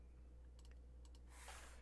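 Faint computer keyboard typing: a few quick clustered keystrokes, then a brief soft rustle, quiet against a low steady background hum.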